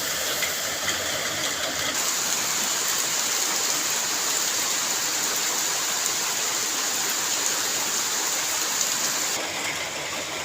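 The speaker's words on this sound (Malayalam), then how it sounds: "പുറത്ത് നല്ല മഴയാണ്, ഇന്ന് ഫുൾ മഴയായിരുന്നു" Heavy rain pours down outside in a steady, dense hiss that holds unbroken throughout, loud and close with no voices.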